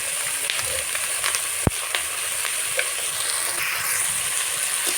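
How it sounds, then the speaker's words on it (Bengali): Vegetables and dried shrimp fry in a pan, a steady close sizzle and hiss throughout with a few faint stirring knocks and one sharp clack, and no voices. "এবার সবজিগুলো আমি ভালোভাবে ভেজে নেবো"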